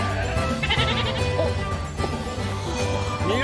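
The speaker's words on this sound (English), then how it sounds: "they might not have even seen goats before." Goats bleating in an anime scene, several wavering cries rising over a dense, loud backdrop of crowd and street sound that runs the whole time.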